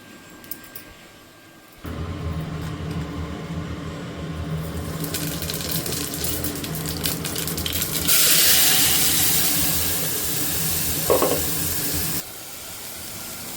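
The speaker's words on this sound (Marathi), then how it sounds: "कांदा टमाटा चांगला परतून घेतला मी आता तेलामध्ये" Chopped onion and tomato fry in a little oil in a pan while making quick pav bhaji, a steady close sizzle that grows louder and brighter partway through, with a brief clink, then drops back before ending.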